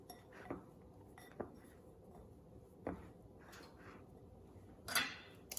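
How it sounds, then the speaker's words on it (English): Tofu pieces tossed in a dish with flour and seasonings, heard as a few sparse, light clinks and scrapes of a utensil against the dish, separated by quiet pauses. "I'll go ahead and mix that around in there, get them all coated with the flour and our seasonings"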